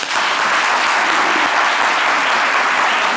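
A studio audience on a midday talk show bursts into dense, steady applause that fills the whole stretch without a break.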